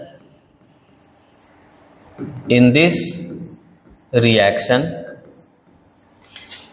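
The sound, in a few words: writing a definition by hand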